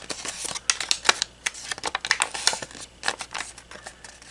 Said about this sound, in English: And now just try and mountain fold it.